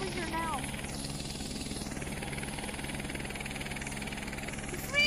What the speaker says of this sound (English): Why are you trying to shoot a poor old helicopter?